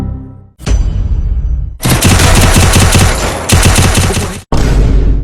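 Loud, close bursts of automatic gunfire from the mobile shooter Free Fire, rapid rattling volleys broken by brief gaps, with no voices.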